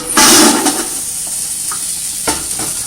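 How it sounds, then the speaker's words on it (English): Carrots hit a hot pot for Greek lentil soup with a loud burst of sizzling, which settles into a softer steady hiss broken by a couple of sharp stirring scrapes. "So now we add in our 2 carrots,"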